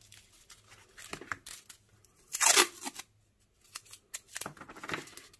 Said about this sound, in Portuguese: vem com a tesoura, corta um pedaço